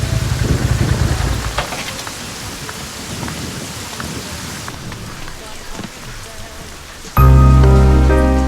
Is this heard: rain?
yes